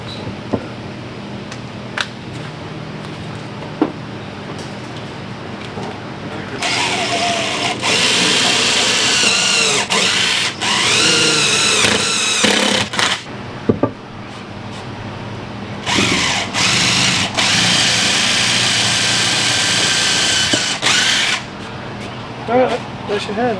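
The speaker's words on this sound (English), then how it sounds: "Drill through it with a drill" Power drill boring a hole for a bolt during Tacoma truck repairs, two long loud whirring bursts with brief stops between them, and talk in the gaps.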